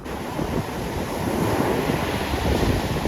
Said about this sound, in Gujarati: અરે કરી મોજા ભાઈ તમે બહુ મોટા મોજા આવ્યા